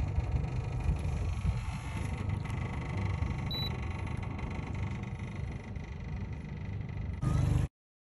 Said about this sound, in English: It's like a little baby motor.